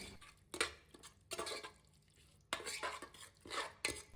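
Stirring and frying in a pan after salt is added for vegetable pulao, with bursts of scraping and clinking of a spoon against the pan separated by short pauses, close and fairly quiet.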